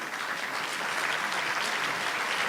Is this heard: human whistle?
no